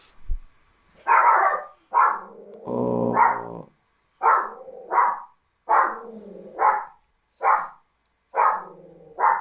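A small dog barks in quick repeated pairs with a low growl early on. The barking is loud, close and steady, with short pauses between the yaps and no talking over it.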